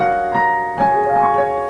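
Piano plays a brief classical-style passage of My Old Kentucky Home, with held chords and a few melody notes, close and clear with nothing else over it.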